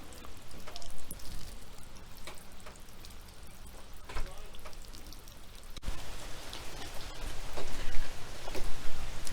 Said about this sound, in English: It's really raining out here